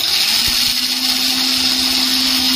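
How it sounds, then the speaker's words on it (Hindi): An electric blender grinds spices into a paste in a blender jar, a loud steady whirring drone that runs without a break and then cuts off abruptly. "हम इन सब मसालों को ग्राइंड कर देंगे।"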